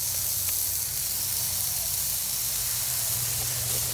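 Brisket burgers hiss and sizzle steadily on a hot griddle of a grill BBQ island, a continuous close frying sound with no talking.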